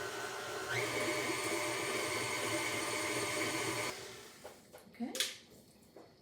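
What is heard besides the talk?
stand mixer running at medium speed with sugar and shortening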